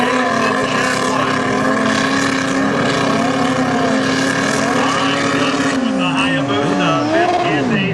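Drag racing motorcycles make a fast run at Luskville Dragway, a loud continuous engine roar with steady tone that rises in pitch near the end as the bikes accelerate, heard close and sustained throughout.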